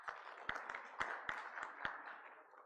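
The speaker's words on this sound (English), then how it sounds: "can we have a round of applause for her, please?" A small audience gives a faint round of applause at a foundation day celebration, a handful of scattered, distinct claps with a soft patter between them, fairly distant and quiet.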